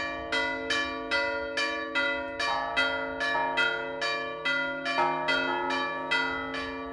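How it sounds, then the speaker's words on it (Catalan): Church bells swung during a town festival in Cardedeu ring in a steady, rapid sequence of about a dozen clear strikes, each tone ringing on and overlapping the next, with no voices. "Va ser necessari realitzar un bon esforç per a fer balancejar totes les campanes"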